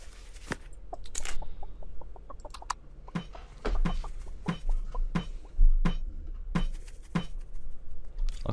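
A chicken clucking in the Tree of Life video game, a series of short sharp clucks repeated at a fairly regular pace over faint background ambience, with no talking.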